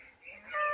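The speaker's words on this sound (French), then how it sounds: "Avec les canards de l'année." A short, nasal call from one of this year's young ducks on a farm, including Hawaiian ducks, rises over faint background noise and lasts under a second.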